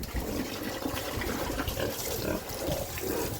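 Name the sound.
pig drinking water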